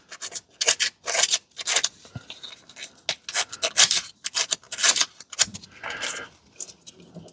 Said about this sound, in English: you can sand your magnets if you want